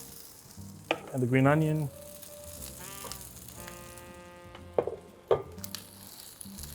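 Eggs sizzle in a hot pan for shiitake and egg fried rice, a steady frying hiss with a few sharp spikes and bursts, while a voice talks briefly over it.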